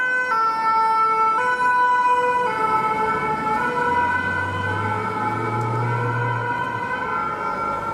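A wailing ambulance siren sweeps past on the road, loud and close at first, then its pitch drops as it moves away, with engine rumble underneath.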